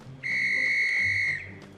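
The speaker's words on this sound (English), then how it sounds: "Twilight heard a sharp whistle." A sharp, steady whistle blast at a railway station platform rings out loud and close for about a second, tonal and piercing, then cuts off against a low background.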